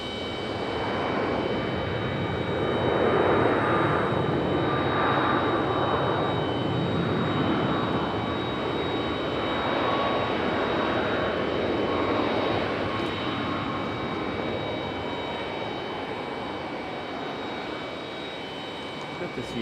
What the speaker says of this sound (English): Iceland coming in from Reykjavik